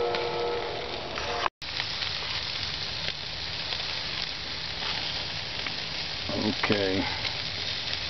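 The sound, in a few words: barbecue meat sizzling on a grill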